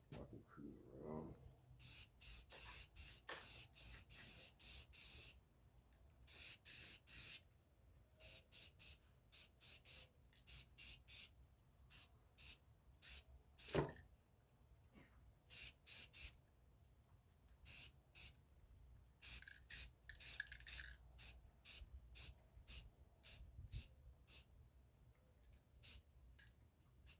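Short hissing bursts of spray paint being applied to a bipod, coming in rapid irregular puffs close by, fairly quiet, with a steady faint tone underneath and no talking.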